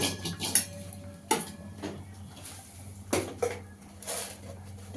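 A metal pot being lidded while paneer pulao cooks: several clanks and clatters of metal on metal, fairly close, between quieter stretches.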